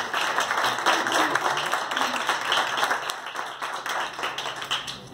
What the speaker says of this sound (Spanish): Pues un fuerte aplauso, por favor.